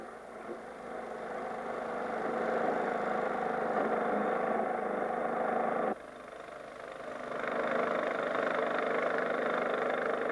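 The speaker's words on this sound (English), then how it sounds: "depending on the adaptation of the air-cooled engine" Air-cooled engine of a Coot amphibious vehicle running steadily at a fairly faint, even idle, with a brief dip in level midway before it settles back to the same drone.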